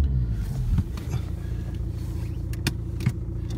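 A 2010 BMW 1 Series 116d Sport with a diesel engine and six-speed manual box idling just after starting, a steady low rumbling clatter heard close, with a few faint clicks and knocks on top.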